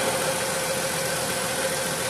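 A 2012 Dodge Journey with the 3.6 engine idles steadily after running for a while, a constant close mechanical hum with a faint whine and no talking.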